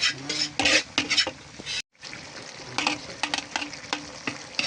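Bitter melon stirred and frying in coconut milk in a pan, a steady sizzle with repeated scraping utensil strokes against the pot, close and continuous, broken by a brief cut of silence.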